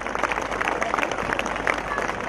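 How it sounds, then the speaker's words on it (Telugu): An audience claps steadily for young children at a company event in Visakhapatnam, a dense, continuous patter of many hands with voices mixed in throughout. "దయచేసి ఒకసారి అందరూ కూడా నాన్ స్టాప్ గా చప్పట్లు కొడుతూ ఉండండి"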